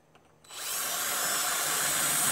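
A carbide bit grinds metal on a Scion xB. After a brief quiet moment it spins up into a loud, steady, high-pitched whirring grind that holds without a break.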